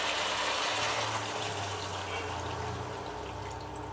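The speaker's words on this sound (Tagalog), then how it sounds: "Lagyan na natin ng tubig." Water poured from a container into a cooking pot of sautéed chicken for tinola, giving a steady broadband rush with a low gurgling tone that holds for about four seconds, close and moderately loud, with no talk.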